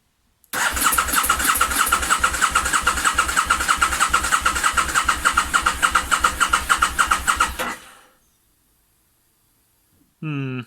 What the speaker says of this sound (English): I'm going to put the fuel tank back on and actually see if it starts